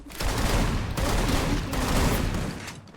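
Sustained, dense gunfire from the Free Fire video game rattles on for about three seconds, loud and close, with rapid overlapping shots forming a continuous barrage.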